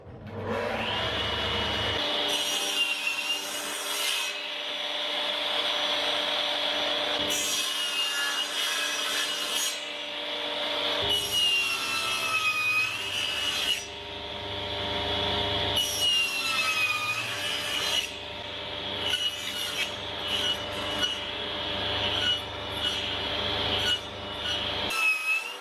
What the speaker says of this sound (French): il va falloir que je fasse des découpes à la scie circulaire et des découpes avec la scie à ruban